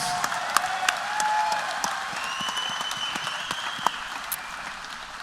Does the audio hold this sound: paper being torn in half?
no